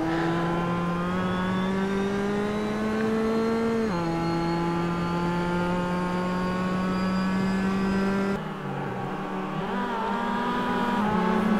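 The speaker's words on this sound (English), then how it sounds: "This is from on board of Hampus Andersson. He's overtaking Jimmy Larsen." Race car engine heard on board during an overtake at Oulton Park, revving loud and steady with a rising, sustained whine that dips briefly as it shifts gears, then climbs again.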